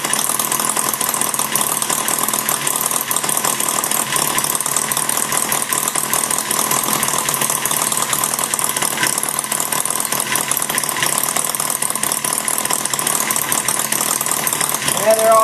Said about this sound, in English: It actually runs a little smoother once it warms up with a little bit of load on the flywheel.